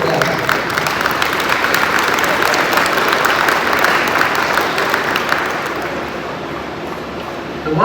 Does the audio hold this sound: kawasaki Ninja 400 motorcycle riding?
no